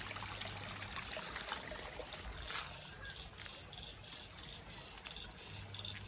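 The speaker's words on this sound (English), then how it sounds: "Over here is another pond and stream." A backyard garden stream fed by a sump pump, its water trickling and burbling steadily and fairly quietly over the whole stretch, with a faint broadband hiss and no talk.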